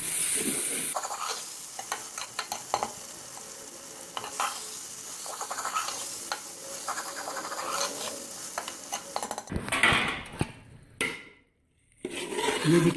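Ground chicken keema sizzles and gets stirred in a pan, a continuous frying hiss broken by repeated scraping strokes of the spoon, with a brief pause near the end before the stirring resumes.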